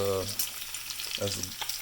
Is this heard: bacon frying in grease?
yes